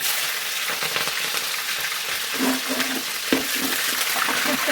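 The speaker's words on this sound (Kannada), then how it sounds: "ಪ್ಯೂರ್ ಕೊಬ್ಬರಿ ಎಣ್ಣೆ ಮನೆದೆ ಸಾಸಿವೆ ಹಾಕೋತಾ ಇದ್ದೀನಿ" Mustard seeds and curry leaves fry in pure coconut oil in a home kitchen, giving a continuous close sizzle sprinkled with small crackles and pops that holds steady the whole time.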